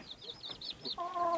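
Roosters and chickens cluck in a farmyard, a faint string of short, quick calls followed by a longer drawn-out cry, all at a distance.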